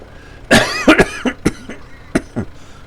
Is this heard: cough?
yes